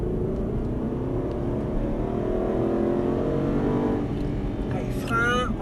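In-car engine noise from an Aston Martin Vantage on a race track, building as the car accelerates, rising harmonic whine climbing steadily, with a voice briefly speaking near the end.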